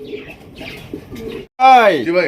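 A pair of blue bar beauty pigeons coo up close: soft, low murmuring calls, then a louder, throaty rolling coo near the end.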